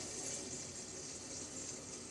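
Tap water pours steadily into a kettle, a soft, even rushing hiss with no breaks, quiet and close, and no voices.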